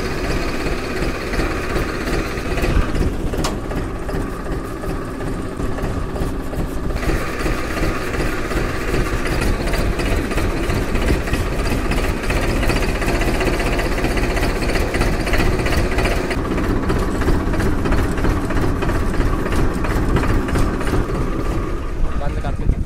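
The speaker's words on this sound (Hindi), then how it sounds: "चालू करते हैं ट्रैक्टर को, रख लेते हैं आगे।" Tractor engine starts up and settles into a rough, knocking idle, a loud continuous low chug that runs for the full length with a few brief clunks and voices talking nearby.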